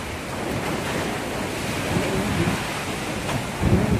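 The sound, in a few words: strong typhoon wind in Iloilo City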